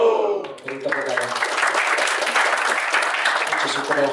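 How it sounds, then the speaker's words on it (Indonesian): Audience applause at a school outreach event at SMK Negeri 3 in Batu, Indonesia, a sustained wash of many hands clapping that follows a brief voice at the start. "Beri tepuk tangan."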